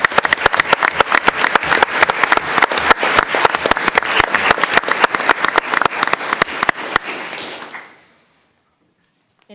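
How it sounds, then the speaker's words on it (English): A school board meeting audience applauding, a dense burst of many hands clapping steadily for several seconds before tapering off abruptly into near silence. "So I think she deserves a round of applause also."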